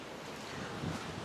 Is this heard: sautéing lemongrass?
no